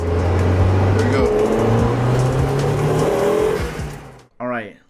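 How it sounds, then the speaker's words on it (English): A turbocharged 1990 NA Mazda Miata with a Magnaflow exhaust and about 12 psi of boost revs loudly and close by, its engine tone climbing and falling repeatedly before cutting off, followed by a brief voice. "1990 NA Mazda Miata with a nice Magnaflow exhaust and set up with a turbo pushing about 12 psi"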